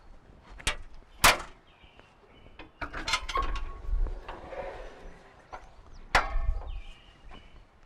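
Rear door on a Takeuchi TL12v2 vertical lift loader being opened, a few sharp metallic clunks and latch knocks close by, with rattles and a final thud as the panel swings open.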